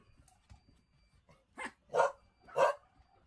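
A dog lets out three loud, separate barks in quick succession after a quieter stretch of low background noise.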